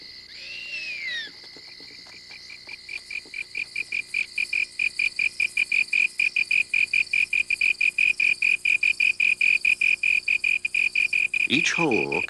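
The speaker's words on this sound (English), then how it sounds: "magnifying the sound made by the slender tree cricket that shapes them" A slender tree cricket chirps close by in a long, rapid train of evenly spaced high pulses that grows steadily louder, ending in a brief different sweeping call.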